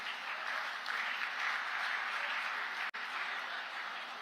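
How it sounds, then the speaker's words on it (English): An audience at the Amazing Goa Global Business Summit 2024 closing ceremony gives a round of applause, a dense, even wash of clapping that carries through without a break except one brief cut. "Let's give a huge round of applause for all these innovative exhibits."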